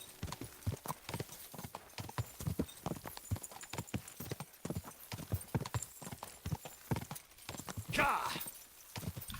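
Horse hooves clip-clop in a steady, brisk rhythm on a road in the game Kingdom Come: Deliverance, close and continuous, with a brief rustling swell near the end.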